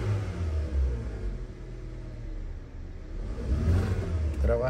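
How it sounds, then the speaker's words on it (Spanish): A 2016 Kia Soul engine idles smoothly after a random multi-cylinder misfire repair, a low steady rumble with slight swells, heard up close and alone. "Ok, el motor sigue más suave."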